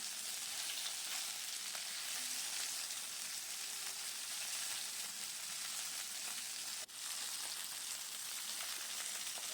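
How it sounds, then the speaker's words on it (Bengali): Pieces of rui fish fry in oil in a pan with a steady, dense crackling sizzle like rain, close and even throughout, with one brief sharp click near the end and no talking. "মাছগুলো আমি একটু কড়া করেই ভেজে নিলাম"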